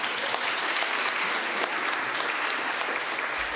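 An audience at a church worship service gives sustained, even applause, a dense wash of many hands clapping with no break.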